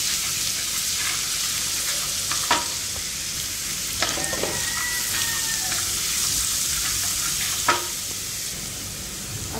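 Fresh creek prawns fry on a tawa with ginger garlic chili paste, a loud continuous sizzle broken by occasional spatula scrapes and taps against the pan.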